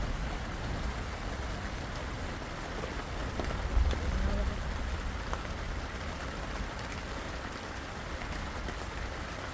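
Steady heavy rain pours down during a storm around a nomadic family's camp, a dense continuous hiss with a brief louder surge midway and faint voices in the background.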